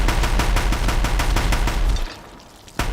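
Rapid gunfire from a captured gun in Horizon Zero Dawn, a loud, evenly spaced burst of shots for about two seconds, then a brief pause and one more shot.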